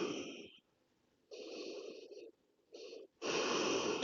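Deep, slow breathing during a gentle yoga pose for core strength, heard close up as long breathy inhales and exhales separated by quiet pauses.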